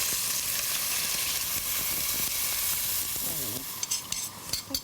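Veal jus is poured over braising cheeks in a hot pan, which answers with a loud, dense sizzle and hiss that settles slightly toward the end, where a few stirring scrapes and a brief voice come through.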